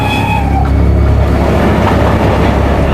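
A moving train rumbles steadily as heard from inside a railway coach, a loud, continuous low roar with faint rhythmic clatter and no voices.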